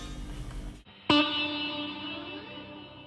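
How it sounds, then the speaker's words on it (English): A single bright guitar note or chord through a Headrush pedalboard reverb rings out after a brief pause, its tone washed in a long, spacious reverb tail that slowly fades. "if I click the reverb, for example, I can go ahead and change the size of the reverb"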